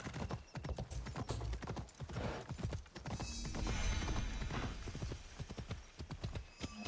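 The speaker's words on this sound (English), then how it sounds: "Magic horse climbed the mountain." Horse hooves clip-clopping steadily up a steep mountain slope in Assassin's Creed Shadows, a close, rhythmic stream of sharp hoof strikes with a brief whinny and a continuous rushing wind-like background.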